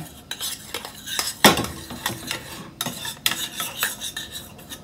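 Garlic butter sauce for lobster tail being stirred in a small pan, with repeated close scrapes and clinks of a utensil against metal in an uneven rhythm, no voices.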